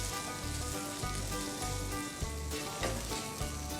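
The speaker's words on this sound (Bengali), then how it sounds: "ঝুরা মাংসটাকে আমরা সর্ষের তেল দিয়ে একটু ভাজা ভাজা করে নেব" Minced meat sizzles in hot mustard oil in a pan, a continuous close crackling fry with faint stirring scrapes and no talking.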